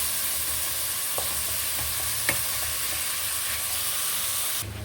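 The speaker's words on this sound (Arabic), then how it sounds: "هنا غادي نلوحو الحوت باش يلا يتحل مزيان" Fish simmering in a pot for a Chinese-style soup gives a steady, close sizzling hiss with faint stirring clicks, running evenly until it drops off near the end.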